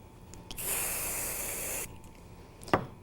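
A spray can of adhesive releases one steady hiss lasting just over a second, close by, followed by a quiet pause and a brief rustle.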